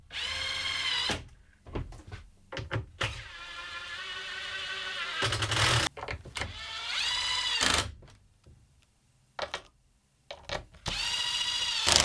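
A power drill drives screws into feather edge boards in short bursts of whirring, separated by pauses and small knocks, close and fairly quiet with no talking.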